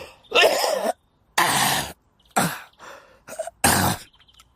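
Violent, chest-racking coughing in an audio drama comes in about five harsh, close bursts separated by short silences.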